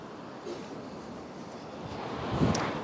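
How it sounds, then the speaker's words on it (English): Steady gusty wind buffeting the microphone on Dickson Road, Blackpool, a low rumbling roar that swells louder toward the end, with no voices. "it is really, really windy"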